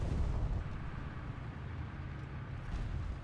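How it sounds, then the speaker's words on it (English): Artillery fire strikes a Panzer IV tank in a World War II vehicle combat game: a continuous low, heavy rumble of distant explosions with no distinct single blast and no talking. "Oh, he really got hit by my artillery."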